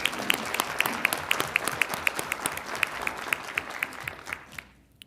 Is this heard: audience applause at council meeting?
yes